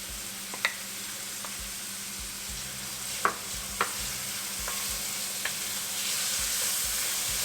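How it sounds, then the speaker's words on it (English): Green chili and onion sizzle in a hot pan for Gobi Manchurian, a steady close frying hiss with occasional clicks of a utensil stirring, no talking. "We'll just cook these down for a minute or so until the onion starts turning translucent."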